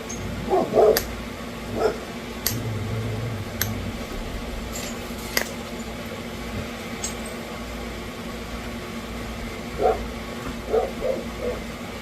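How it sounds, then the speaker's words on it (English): A dog barks a few times at a distance, short bursts separated by quiet stretches, over a low steady background hum. "Not sure what the dog's barking at."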